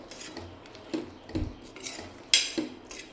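A spoon stirs chana curry with kasuri methi and fresh coriander in a pan, making a few scattered scrapes and metallic clinks against the pan, close and fairly quiet with no talk.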